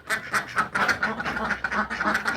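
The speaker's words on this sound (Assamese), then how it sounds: "এই তলৰ জেগাখিনি তলত হাঁহ আছে" Several ducks quacking on a poultry farm in Assam, a dense run of loud, overlapping nasal quacks close by with hardly a pause.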